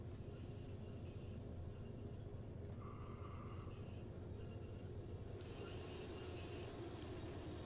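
Train rolling along rails in the game Derail Valley, a steady low rumble with faint squeal tones, continuous and moderately near with no talk.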